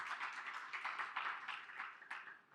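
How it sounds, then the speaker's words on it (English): An audience at a high-level panel discussion breaks into steady, dense applause after a presentation, heard somewhat distant and soft throughout. "Okay, a round of applause."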